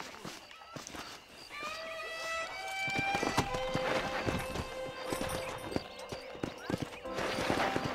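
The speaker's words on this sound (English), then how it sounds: "trying to turn this horse is a bit awkward." Hooves of a horse clip-clopping and breaking into a run in the Western video game Red Dead Redemption, rhythmic strikes growing louder and faster, with a whinny and game music tones around them.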